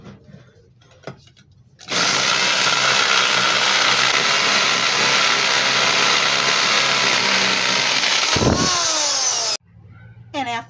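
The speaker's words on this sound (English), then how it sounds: "This is our 12 by 12 stone that we're going to drill today." A hammer drill set to hammer mode bores into a 12 by 12 stone, a loud, steady grinding roar that runs for about eight seconds before cutting off abruptly, with quieter handling sounds before and after.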